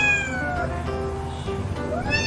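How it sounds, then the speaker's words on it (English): A domestic cat meows close up, drawing out a long, pitch-bending cry that rises again at the end, with no other sounds around it. "This is a cute cat."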